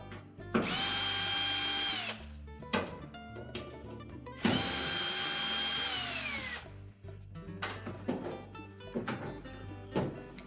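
Power drill backing out the two screws that hold a Whirlpool washer's cold water valve body to the back panel, two sustained whirring bursts of about two seconds each, followed by softer clicks and handling clatter.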